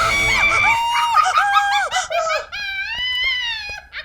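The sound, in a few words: woman screaming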